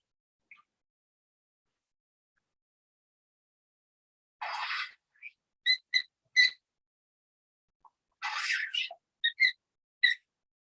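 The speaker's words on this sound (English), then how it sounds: "if anybody's hearing weird noises, it's my bird" A chatty pet bird calls in the background of a quiet room, giving a few scattered bursts of short, bright chirps and whistled notes in two clusters, fairly faint.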